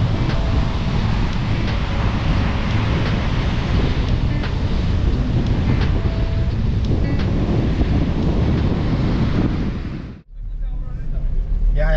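Choppy surf rolls and breaks steadily on a sandy beach while fishing at high tide, a dense, loud wash mixed with heavy wind buffeting the microphone, cutting off abruptly near the end.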